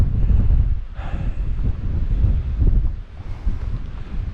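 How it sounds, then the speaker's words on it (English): Strong wind roars across the microphone on a desert rim hike at Echo Basin, a loud, continuous low-pitched buffeting that rises and falls in gusts, with no talking. "Yeah, it is really windy today."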